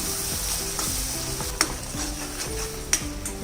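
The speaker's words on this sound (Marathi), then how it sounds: "आता हे तेलावर चांगलं परतून घ्यायचंय।" Fried drumstick pieces being stirred and sautéed in hot oil for a curry, with a steady sizzle and repeated scraping stirs and a couple of sharp clinks of a spoon against the pan.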